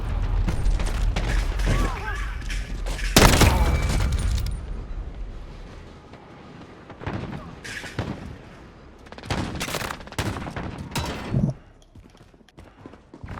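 Rapid video-game gunfire crackles in loud bursts and volleys from a player's weapon, scattered across the stretch with quieter gaps, while a voice talks over parts of it.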